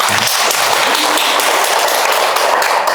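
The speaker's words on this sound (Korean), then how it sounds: "자, 이분도 잘해내겠다고 박수 한번 치주세요." A lecture audience bursts into loud, dense applause, many hands clapping continuously and close, filling the room with no voices over it.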